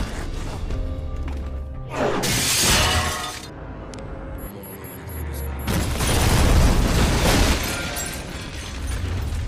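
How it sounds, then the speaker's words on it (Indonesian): A bomb blows up an office in a film fight scene: two heavy blasts with shattering glass and debris, the second longer and louder, with a faint high beeping between them. "Ia juga meledakkan ruang kerja Shiro dengan sebuah bom."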